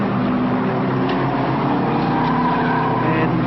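A race car droning steadily through a lap at the 1987 Yokohama Winton 300 circuit, a continuous engine roar heard at a distance with no break.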